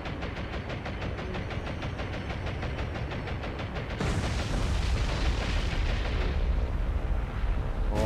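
Dense rumbling booms and rapid gunfire fill a naval battle in the War on the Sea game during a bombing run on Guadalcanal, a continuous loud barrage that thickens into heavier explosions halfway through.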